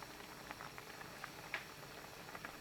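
Spicy Korean sand lance stew broth seasoned with anchovy fish sauce, soy sauce and sea salt, boiling in a pot, heard as a soft, quiet bubbling with small irregular pops and a brief louder burst.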